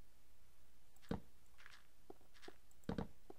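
A wolf pads about in Minecraft, its footsteps coming as a few faint, soft, irregular steps spread apart over a quiet background.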